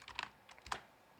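Names are typed on a computer keyboard, a quiet run of light, close key clicks in short irregular bursts, with a couple of sharper taps and brief pauses between them, no voices.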